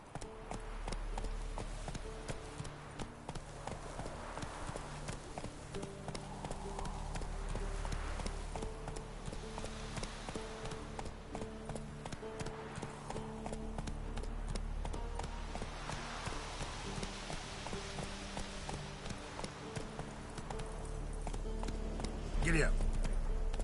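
Roach, the horse in The Witcher, gallops in a steady, continuous beat of hooves under game music and ambience, held for over twenty seconds at a moderate level, with a sharp sound near the end.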